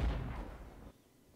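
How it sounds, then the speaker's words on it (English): Distant mortar rounds landing in the war game Armored Brigade: one deep, booming impact that rolls and fades over about a second, then quiet. "I think the mortar's firing in the distance. There you go. Mortar rounds are coming in."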